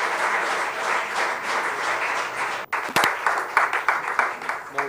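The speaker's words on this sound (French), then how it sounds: "Un applaudissement." An audience at a social-inclusion culture project event applauds with a dense, loud wash of clapping. It thins into scattered individual claps near the end.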